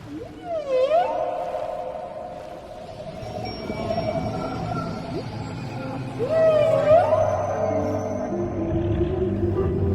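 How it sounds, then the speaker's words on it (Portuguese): A whale calls underwater in rising and falling moaning sweeps, one near the start and another later, over a steady low rumble of ocean noise. "a baleia"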